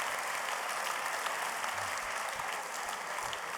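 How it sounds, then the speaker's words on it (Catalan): Dense, steady applause from an audience at a wine awards gala, the Vinari Awards 2024, filling the room continuously with no voices standing out. "L'aplaudim fort."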